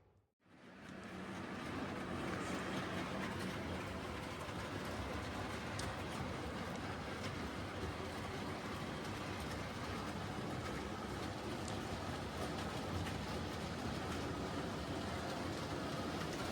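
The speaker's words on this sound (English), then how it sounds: "we're gonna run some trains" A continuous rumbling, rattling run of model trains on a model railway layout starts suddenly and holds at a steady level throughout, close by with no voices.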